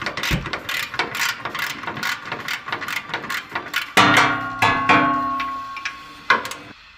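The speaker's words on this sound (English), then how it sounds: "14 millimeter, just remove both of these bolts on both sides." Ratchet wrench backing out 14 mm bolts on the front end of a 2018 Toyota Tacoma TRD, a quick rhythmic series of clicking pawl bursts, close and loud, followed by heavier metallic clanks and ringing as parts shift.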